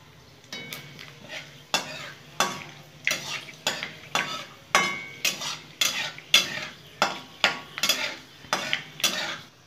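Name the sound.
dried red chilli tempering in hot oil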